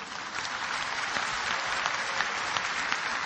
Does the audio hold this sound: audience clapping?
yes